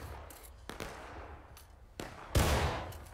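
Musket volleys in War of Rights, a Civil War battle game: scattered sharp gunshots near and far, with one loud close blast that echoes out toward the end.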